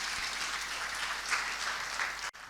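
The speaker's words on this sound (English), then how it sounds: "Let's keep the round of applause going as he takes his seat." An audience at a Czech-Ghana business cooperation seminar applauds after a speech, dense steady clapping throughout, fairly close and even, briefly cut near the end.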